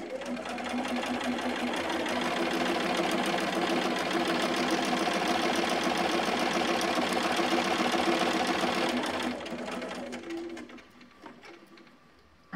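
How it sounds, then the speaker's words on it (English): Sewing machine stitching fabric under the presser foot while piecing half-square triangle quilt blocks, a steady loud whirring hum lasting about nine seconds, then stopping, followed by faint handling noises. "it does help with not grabbing the fabric as it's going through the presser foot, which keeps me sewing straighter."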